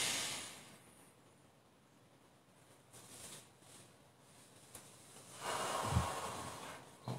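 A person slowly draws breath in through the nose, a soft airy hiss that swells over several seconds to a fuller intake near the end, close and quiet with no talking.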